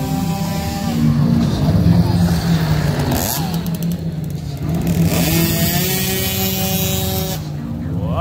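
A motorcycle engine revs hard at a stunt riding festival in Pune, loud and close, with repeated throttle blips rising and falling in pitch over a crowd and voices talking.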